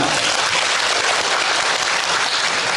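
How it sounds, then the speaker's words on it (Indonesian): Dense, steady applause from a large indoor audience at an Indonesian official gathering fills the whole moment as a loud, even wash of clapping with no voices heard. "Tepuk tangan."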